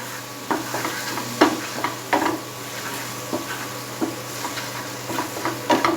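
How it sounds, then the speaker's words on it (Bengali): A paste of mustard, poppy seed and coconut is stirred through ingredients in a pan, with soft scraping strokes at an irregular rhythm over a faint steady sizzle, close and alone without talk. "আমি যে সর্ষে পোস্ত আর নারকেলের পেস্টটা বানিয়ে রেখেছি সেই বাটাটা দিয়ে দেব সমস্ত উপকরণ ভালোভাবে মিশিয়ে দেব"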